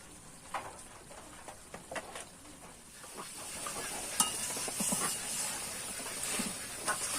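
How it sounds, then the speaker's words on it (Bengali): A soybean and potato curry cooks down in a pan after its water has come to a boil, giving a soft, low bubbling sizzle with occasional spoon taps and scrapes that grow a little louder toward the end. "এখন আমি এটা খুব ভালোভাবে কষিয়ে নেব।"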